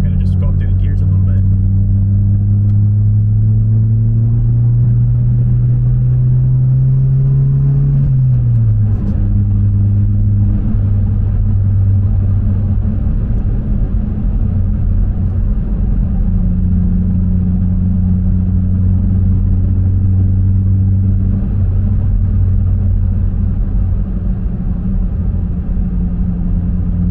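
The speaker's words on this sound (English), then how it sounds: "I'm just going to drive a little bit so you guys can hear it" A Mk7 Volkswagen GTI fitted with an ECS muffler delete pulls through the gears from third, its loud, close exhaust drone climbing in pitch, dropping at a shift, then holding a steady rumble for the rest of the run.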